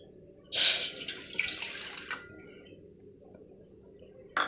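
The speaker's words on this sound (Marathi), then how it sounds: "त्याच वाटीने आपल्याला त्यात पाणी टाकायचं आहे एक वाटी पाणी" Water pours and splashes into a pot for about a second and a half, tapers to a faint trickle, then a brief splash follows; about one cup of water.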